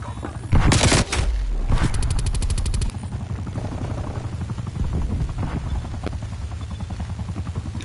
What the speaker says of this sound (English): Whoa, they got a helicopter.